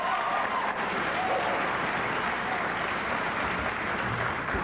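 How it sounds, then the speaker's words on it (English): A Senate debate audience bursts into applause after a candidate's answer, a dense, loud, even roar of many hands clapping that holds steady without pause. "You're clapping after every response."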